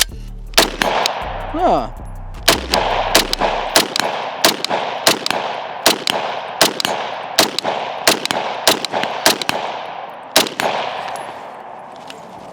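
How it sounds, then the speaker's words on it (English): A customized SIG MCX rifle fires about a dozen loud, sharp shots at uneven intervals, each crack followed by a short ringing echo at an outdoor range, with a brief voice early on. "All right, shooting the Bubba to MCX."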